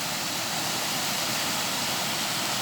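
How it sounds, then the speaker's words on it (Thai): Water overflows from an irrigation channel and pours into a river, a steady broadband rushing roar that stays constant and fairly loud throughout, with no voices. "ที่น้ำล้นมาจากเหมืองนะเจ้า"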